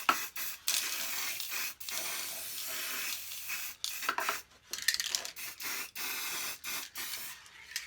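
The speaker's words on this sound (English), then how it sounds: "I've just got some spray varnish. Just going to give that a light coat." Spray varnish hisses out of an aerosol can in a light coat over a lead-cast key frog, a series of short bursts broken by brief pauses, close and fairly quiet.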